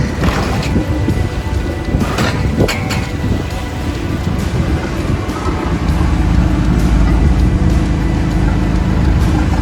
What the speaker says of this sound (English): getting the motor on